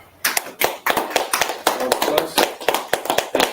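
A small group claps their hands during a class session practising a salute, with rhythmic bursts of claps rising and falling close by over a few seconds and no speech.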